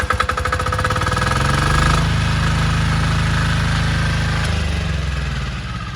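An air-cooled generator engine is started by turning a key and keeps running, giving a loud, close, rapid chugging clatter that settles into a steady hammering drone, then eases slightly toward the end.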